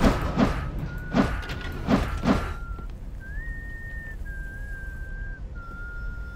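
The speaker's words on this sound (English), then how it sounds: "And lots of whistling." Whistling in the video game Consortium: a steady sustained whistled tone that rises and shifts pitch in held notes, playing over low thumping background game sounds with a few rhythmic thuds early on.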